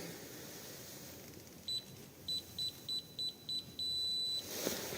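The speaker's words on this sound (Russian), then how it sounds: "Длинный сигнал обозначает, что уже достигнуто требуемое усилие." A DEVETECH CIW cordless impact wrench's torque meter beeps: a run of short, evenly spaced electronic beeps followed by one long sustained tone marking the required force, clear over a low background hum.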